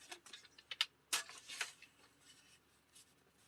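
A bone folder scrapes and creases a folded card in short, dry strokes, with a sharper pass around the middle and quieter rubbing after it, and no talk.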